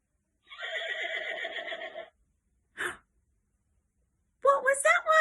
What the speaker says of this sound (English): This animal makes the sound neigh, neigh.